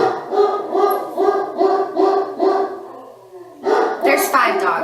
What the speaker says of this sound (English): They ain't ever gonna stop barking.